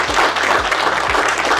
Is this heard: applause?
yes